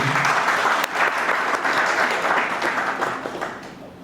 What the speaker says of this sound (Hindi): एक बार इसके लिए जोरदार तालियां हो जाएंगी।